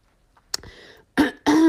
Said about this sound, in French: j'ai encore un chat dans la gorge et je tousse encore